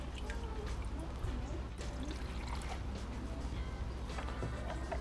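Water trickles and pours steadily into a Sunsun XBL-300 aquarium canister filter, a continuous liquid wash with faint background voices and handling noise.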